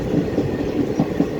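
A 14-coach ICF-built Intercity Express runs at speed on the Telangana line between Charlapalli and Ghanpur, giving a steady, close rolling rumble with faint rhythmic wheel clatter throughout.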